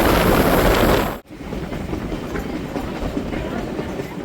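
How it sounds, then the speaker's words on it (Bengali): A Howrah to Digha local train runs with a loud, steady rumble and rattle of wheels and carriages, a sudden short drop, then continued clickety-clack motion noise. "হাওড়া থেকে দীঘা এই নতুন ট্রেনে জার্নি এই প্রথমবার আমার।"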